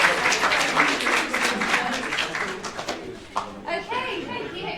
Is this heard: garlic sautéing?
no